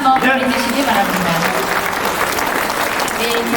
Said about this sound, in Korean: 우리 코디네이터님께 큰 박수 한번 보내주시기 바랍니다.